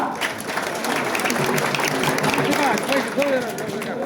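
A crowd at a wrestling bout in Nashik claps together, a dense sustained patter of many hands under a loudspeaker commentator's voice throughout.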